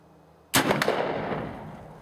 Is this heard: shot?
yes